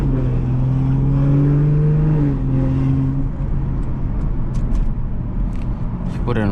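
A modified 500-horsepower BMW 440i engine revving hard while driving, the pitch climbing and falling back as the throttle rises and eases, loud and close from inside the car.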